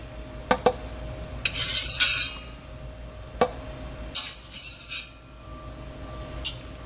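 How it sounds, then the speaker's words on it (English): A slotted spoon scooping sausage out of oil in a pot, sharp metal clinks against the pot rim spaced across several seconds, with a brief rustling scrape and faint bubbling in between. "we're going to pull the sausage out of the oil using a slotted spoon"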